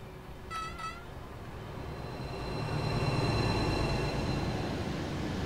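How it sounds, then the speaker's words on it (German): A train rolls past in Train Sim World 4 with a steady rumble that swells a little midway, plus a brief high squeal early on, alone without speech. "während der Zug an uns vorbeifährt"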